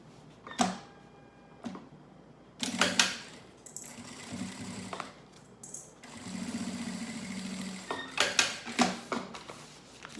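A sewing machine stitches the lining of an insulated school lunch bag in short bursts of rapid mechanical whirring, separated by pauses with light handling clatter, close and fairly quiet.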